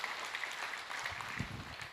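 Brief, faint applause from an audience at a Buddhist lecture on the Xinxin Ming, a soft scattered patter of clapping heard from a distance.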